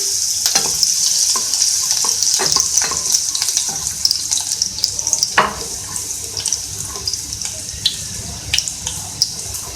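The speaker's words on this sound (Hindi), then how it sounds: "सबसे पहले ऑयल में मैं लहसुन ऐड करूंगी, इसको हल्का सा फ्राई कर लेंगे" Chopped garlic frying in oil gives off a steady, close sizzling hiss, with scattered small clicks and spatters from stirring throughout.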